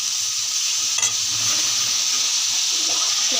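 Onion, tomato and potato bhaji frying in a pan, a steady close sizzle with continuous hiss, one brief scrape of stirring near the start.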